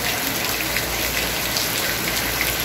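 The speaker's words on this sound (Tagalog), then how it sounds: "Walang tigil ang ulan." Steady rain falls without a break, a dense, even patter of drops on surfaces all around, continuous and fairly loud with no other sounds standing out.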